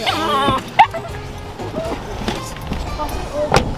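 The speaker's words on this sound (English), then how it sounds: "There's a very large dog coming." Outdoors during a family photo shoot at dusk, dogs give a few short barks and yips, with one sharp close bark standing out amid talking voices and background bustle.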